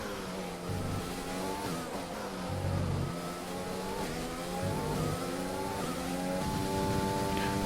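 Race cars lapping Paul Ricard during the French Grand Prix in a racing video game, a steady droning engine note with rising and falling revs and gear changes, continuous and fairly loud with no talk.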